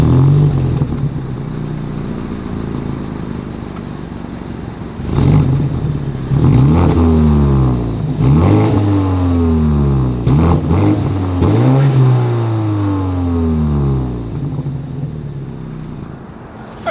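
A 2022 BMW X3 with dual exhaust outlets revved in a series of sharp blips, each rising then falling away. The blips are loud and close, coming in quick succession after a steady idle.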